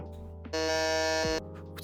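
A quiz show buzzer rings in once, a loud, harsh electronic buzz lasting just under a second, standing out clearly against quiet background hum.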